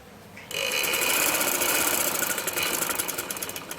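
A sewing machine stitching a peplum umbrella frock starts up abruptly and runs continuously at a fast, steady whir with rapid mechanical clatter, close and loud, easing slightly toward the end.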